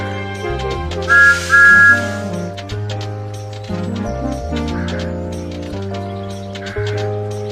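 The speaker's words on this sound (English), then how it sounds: "This is Thomas's whistle." A cartoonish train whistle from Thomas the Tank Engine in a Thomas and Friends video game toots twice over bouncy game music with a steady beat, loud and close.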